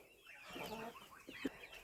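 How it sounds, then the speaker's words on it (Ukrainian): A flock of hens crowded around a single nesting box clucks softly and faintly, overlapping murmurs and short calls in a quiet henhouse. "ось ця банда курочок, вони несуться в одне гніздо"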